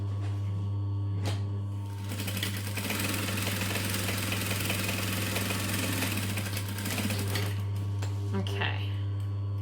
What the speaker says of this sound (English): And then we're going to just sew the whole side of the other base.